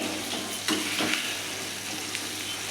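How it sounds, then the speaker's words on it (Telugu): Tamarind chutney from green tamarind, Telangana style, frying gently in a pan, a steady close hiss and sizzle with a few soft stirring scrapes, no talking. "ఇప్పుడు కొంచెం ఇది సన్నగా వేగనివ్వాలండి"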